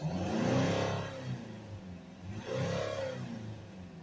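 A Mercedes E-Class 2.1 CDi diesel engine revs up twice, rising and falling in pitch with a gap between, steady mid-loud engine rumble throughout.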